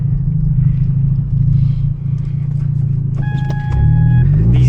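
A Hyundai Genesis Coupe with a loud exhaust and turbo drives at night, its steady low engine rumble filling the cabin and rising near the end as the car accelerates.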